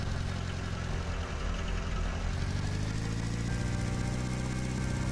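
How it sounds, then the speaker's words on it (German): A quieter new car engine hums steadily in The Long Drive video game, a low, even drone that stays constant and fairly faint throughout. "Der ist sehr viel ruhiger als unser anderer Motor."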